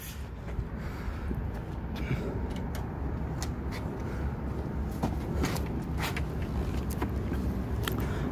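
A four-seat FX 400 Predator UTV runs on a test drive, producing a steady, loud engine and road rumble with scattered sharp clicks and rattles throughout.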